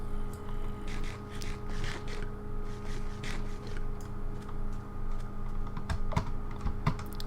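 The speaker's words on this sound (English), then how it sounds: "the spacebar on this thing doesn't quite respond the way the one on my old keyboard did" Rapid clicky typing on a computer keyboard, close and uneven in rhythm, with bursts of keystrokes and brief pauses, over a faint steady electronic hum.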